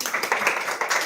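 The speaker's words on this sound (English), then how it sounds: "Okay, a round of applause." Audience applause in a creator talk session, a dense spread of many hands clapping together at steady loudness for about a second, with no voices over it.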